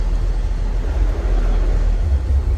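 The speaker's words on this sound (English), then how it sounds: "And this big truck." A big truck drives past on a street in Savannah, Georgia, a loud, continuous low rumble of engine and tires close by with no talk over it.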